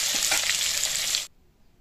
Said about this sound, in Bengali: আলুগুলোকে দিয়ে দিলাম, আলুগুলোকে ভেজে নেব।